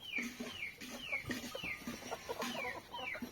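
Hens cluck repeatedly in short, rhythmic bursts, with quick descending calls recurring every half second or so, fairly close and moderately quiet.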